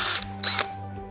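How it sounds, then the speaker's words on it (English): Power drill boring holes in wood, two loud whining bursts close by with a brief pause between, then a lower mechanical hum continuing. "now that will keep it put while I drill the other holes"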